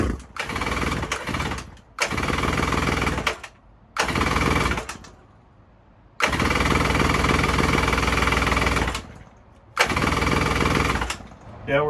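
A Suzuki LJ20 engine cranks in repeated loud bursts that stop and start, catching and running roughly as if starved of fuel, with brief quiet gaps between attempts and no talk over it.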